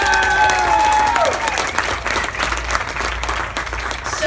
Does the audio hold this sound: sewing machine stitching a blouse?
no